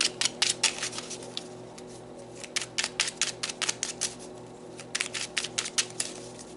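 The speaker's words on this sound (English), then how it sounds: "So let's pull some more tarot to further clarify these cards here." Tarot cards are shuffled and pulled from a deck, making quick bursts of crisp flicking and riffling clicks in three close clusters with short pauses between, and no voices.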